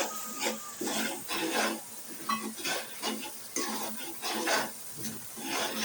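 A spoon scrapes and stirs through a pot of fish curry after salt goes in, giving a steady rhythmic scraping with soft sizzling underneath and no voices.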